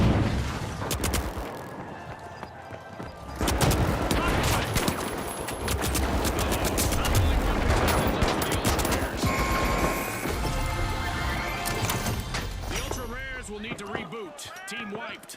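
Explosions and rapid gunfire fill a frantic match of The Finals, with a thrown frag grenade bursting among dense, continuous shooting and impacts, loud and close, with voices talking over the chaos.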